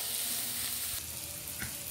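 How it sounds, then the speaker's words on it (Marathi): Ground spices (turmeric, chilli powder and coriander powder) sautéing in a pan with onion and tomato for whole masoor dal gravy, a steady close sizzle with a brief stirring scrape near the end. "मसाले परतून घेऊया।"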